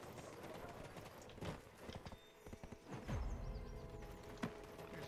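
Horse hooves in a video game, a quiet clip-clop of hoofbeats mixed with a neigh and some thuds against a soft game ambience.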